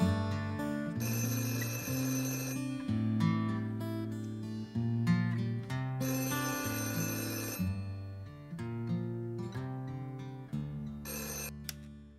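Telephone ringing during a live Christmas stage show, a melodic electronic ringtone playing repeated bright tones in a steady looping pattern for over ten seconds, moderately loud with no speech over it.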